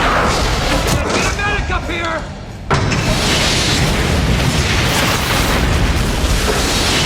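A grenade blast tearing apart a teleportation machine in a film scene, a heavy roaring explosion that swells into a sustained rumbling burst of debris, with a brief lull before a second loud blast.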